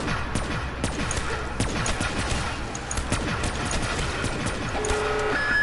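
Gunfire in the Black Ops 3 Zombies Moon map, including a light machine gun: continuous rapid, crackling shots layered over game noise, fairly loud throughout, with a brief tonal game effect near the end.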